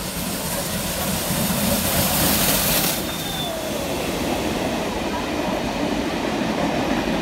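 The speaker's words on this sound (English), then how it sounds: "we see the loco passing through Rockdale on its way to its first stop, Hurstville" Locomotive 5917 hauls a train through Rockdale station in New South Wales, a loud, close rolling rumble with wheel clatter and a brief high squeal, steady throughout.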